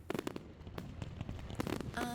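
Fireworks at an evening display in the French Alps, a quick series of sharp pops and crackling bursts at moderate distance, with a steady rumble and some faint tonal whistles near the end.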